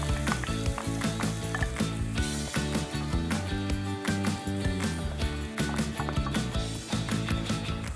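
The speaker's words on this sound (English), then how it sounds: "we'll soften up our vegetables in a pot" Steady sizzling and crackling of vegetables softening in a pot, with clinks and stirring sounds throughout, fairly close and continuous.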